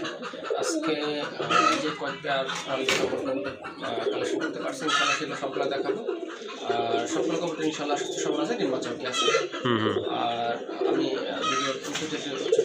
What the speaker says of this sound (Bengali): আজকে তো দেখলাম মাশাল্লাহ অনেকগুলো কবুতরের কালেকশন আছে